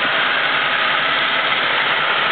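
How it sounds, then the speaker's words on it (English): A 1941 Lincoln Continental Series 16 coupe with its nearly 5-liter V12 idles in a steady, even hum, close and continuous with no voices. "Lincoln Continental Series 16 with that big old V12 engine in it, nearly 5 liters."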